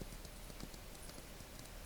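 Appaloosa horses' hooves clip-clop in The Ranch of Rivershine video game, a quick, even patter of light hoofbeats against a soft background hiss, with no talk.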